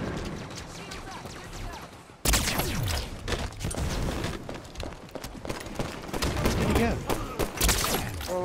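Rapid bursts of gunfire in the video game BEAM, with sudden loud volleys and thuds filling most of the clip after a quieter opening, while voices talk underneath.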